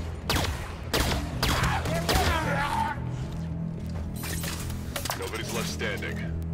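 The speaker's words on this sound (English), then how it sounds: "Enemy firing from that ledge." Bursts of enemy gunfire in the Xbox One shooter Halo 5: Guardians, with several loud clustered volleys in the first seconds and more firing later, over a steady low game hum.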